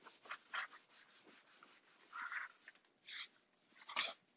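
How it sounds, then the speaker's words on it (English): Rubbing strokes on a closed faux leather journal cover, a series of soft, brushy friction bursts in short irregular passes, close and fairly quiet. "close our notebook, give it a nice good rub"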